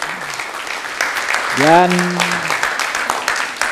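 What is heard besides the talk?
audience applause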